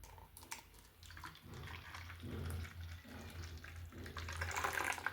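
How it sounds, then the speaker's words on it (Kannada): Cucumber juice is poured into a glass, making a faint, uneven trickling and splashing with small gurgles, close by and alone. "ಇವಾಗ ನೋಡಿ ಒಂದು ಗ್ಲಾಸ್ಗೆ ಸರ್ವ್ ಮಾಡ್ಕೊಳ್ತೀನಿ."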